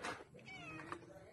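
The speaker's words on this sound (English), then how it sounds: "And the baby cat." A kitten meows in a short, thin cry with a rising and falling pitch, set against steady background noise, with a soft murmur of a person nearby.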